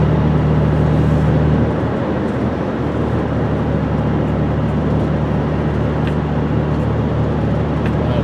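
A 2004 Honda Odyssey minivan driving straight down the road at about 50 mph, a steady loud rumble of engine and road noise heard from inside the cabin with no talking.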